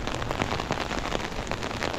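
Rain pours down steadily during a walk outdoors, a dense, close, even patter of drops hitting surfaces without pause and with no voices.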